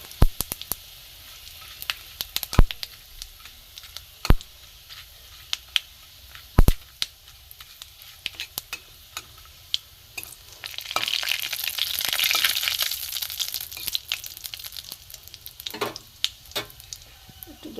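Dried red chili, five-spice seeds and two bay leaves crackling in hot oil, with sharp scattered pops over a low hiss that swells into a louder, steady sizzle partway through.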